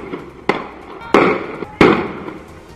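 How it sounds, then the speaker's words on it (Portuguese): Three sharp, echoing bangs ring out at uneven intervals, each trailing off into the open air, like gunshots heard from some distance during a clash between criminals and police. "Os tiros podiam ser ouvidos de longe."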